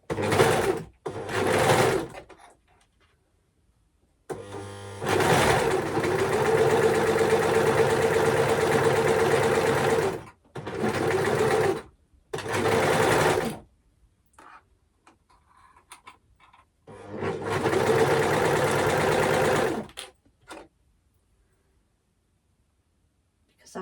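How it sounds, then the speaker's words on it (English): An overlocker runs in several whirring bursts of a few seconds each while stitching striped fabric for a Naya tee, separated by quiet pauses and brief handling noises. "then we're just going to overlock that into place, which is going to be fun with these stripes"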